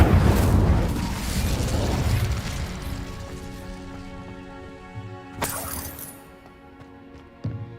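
An Incendio fire spell cast in Hogwarts Legacy: a loud burst of crackling flame that fades over several seconds, then a sharp magical flash and a later smaller impact, with no talk.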